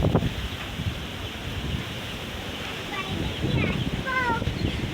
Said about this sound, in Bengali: জন্মের বাতাস আছে, বাতাসে সব উড়ে যাচ্ছে।